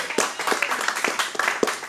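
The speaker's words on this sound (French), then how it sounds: "Applaudissez très fort pour la gloire du Seigneur" A church congregation claps during a Sunday service, a steady scatter of hand claps repeating through the whole moment at moderate loudness, with no talk over it.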